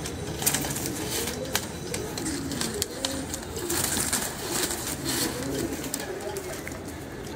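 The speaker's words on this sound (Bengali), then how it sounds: "অনেক ছটফটে কবুতর" Restless pigeons of traditional and flying breeds coo in a loft, with soft rustling and wing flutters close by and fluttery activity running throughout.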